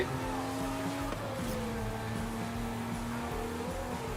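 A steady Volkswagen Golf GTI engine drone in the video game Forza Horizon 5 with shifting pitch, continuous and loud throughout, with a brief gear change partway through.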